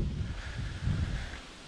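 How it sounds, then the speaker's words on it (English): Gusty wind buffets the microphone outdoors at a scrap yard, a loud, rumbling low roar that swells in uneven surges, strongest near the middle, with no other sounds standing out. "sorry about the wind."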